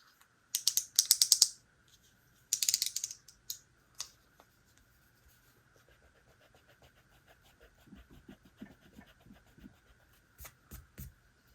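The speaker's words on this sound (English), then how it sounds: "I need to erase. Where's my eraser?" A pencil eraser rubs back and forth across a coloring page in two short, close bursts of scrubbing, followed by faint quiet handling sounds.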